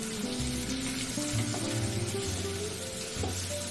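Poha and potatoes fry in a pan with a soft, continuous sizzle and occasional stirring scrapes, set against a low musical background.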